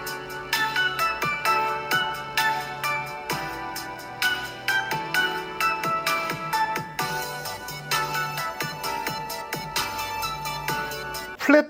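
Music with plucked, bell-like melodic notes and a bass line plays through the small built-in speaker of a Mac Studio, sounding steady and continuous for over ten seconds with no voices.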